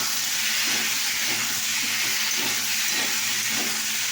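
Water poured into a hot pan of papaya and potato hisses loudly, a continuous steady steam roar that stays close and constant throughout.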